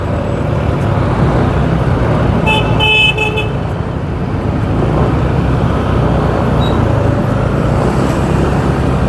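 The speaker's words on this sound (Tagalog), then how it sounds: "Okay, may bus, may bus, may bus." A bus moves through busy road traffic, heard from inside a car: a loud, constant engine and road rumble with a brief burst of horn honks partway through.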